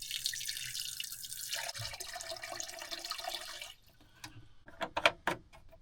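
Water runs steadily into a 1.5 liter pan on a forest campfire for tea, a continuous splashing stream that stops partway, followed by a few sharp drips and clinks, fairly close.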